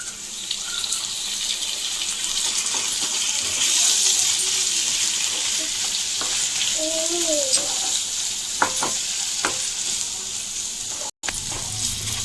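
Washed prawns fry in a pan with ginger-garlic paste, a continuous close sizzle and hiss broken by a few stirring knocks and scrapes; a brief voice-like tone surfaces midway.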